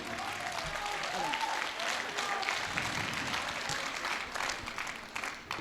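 Crowd at a Hindi poetry gathering (kavi sammelan) claps in a sustained, even burst of applause that fills the room at moderate level throughout, with murmuring voices faintly mixed in.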